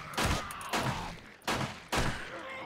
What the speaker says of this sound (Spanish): tirando balas ahí como si, como si nos sobraran